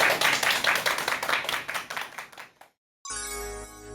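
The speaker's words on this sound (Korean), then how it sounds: "큰 박수 부탁드립니다." An audience claps to welcome lawyer Shin Eun-sook's lecture on family inheritance disputes, steady and close for about two and a half seconds, then fading out; after a short silence a bright sustained musical tone begins.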